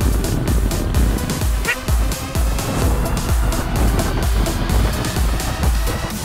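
Heavy, continuous road rumble fills the cabin of a 2019 Kia Niro EV on the move, with a person talking over the steady drone.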